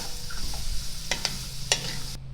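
Onion, celery and carrots sizzle in bacon fat in a pot, a quiet steady crackle with a few brief clinks and scrapes of stirring, close and without talk.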